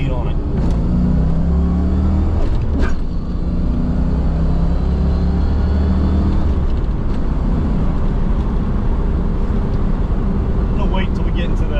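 A 1990 Fox Body Mustang engine drones loud and continuous while the car is driven hard, with heavy low rumble and road noise filling the cabin throughout.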